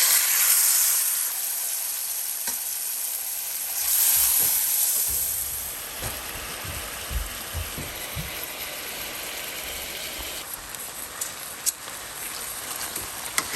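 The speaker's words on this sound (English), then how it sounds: "now we're just going to drop the lamb on in there." Lamb steak drops into a pan of hot coconut oil, setting off a hissing burst of searing that settles into a softer sizzle with scattered pops and clatter.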